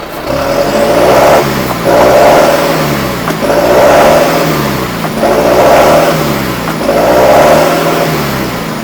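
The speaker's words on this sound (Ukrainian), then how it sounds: "Зараз покажу вихлопну. такий звук 4-циліндрового" A four-cylinder diesel engine of a John Deere 6420 tractor revs up repeatedly in a steady cycle, five sharp surges of rough, throaty exhaust roar with brief dips between, loud and close.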